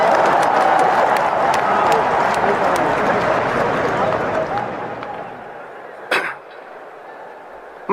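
A studio audience on a TV show breaks into loud, dense applause that holds steady, then thins and fades out after about five seconds, followed by a single sharp knock and near quiet.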